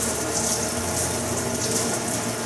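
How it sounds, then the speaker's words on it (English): Steady hiss of a water spray rinsing excess penetrant off a surface during penetrant inspection, loud and close, continuous with no pauses and no voices. "I want to spray off the excess penetrant."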